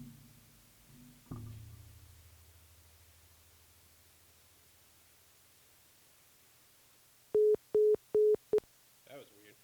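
After a dropped phone call, quiet hiss and a soft thump give way to four short, evenly spaced electronic tones from the phone line, followed by a faint garbled blip.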